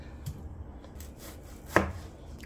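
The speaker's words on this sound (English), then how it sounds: "you're gonna chop the scallion as fine as possible" A knife chopping scallion finely on a board: a few soft, sparse cuts followed by one sharper, louder knock, quiet and close with no voices.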